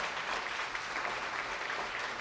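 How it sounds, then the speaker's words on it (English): An audience at a StorySlam storytelling event claps steadily, a dense, even wash of applause filling the room at moderate volume with no voices heard. "let's have a round of applause for everyone who's gone so far"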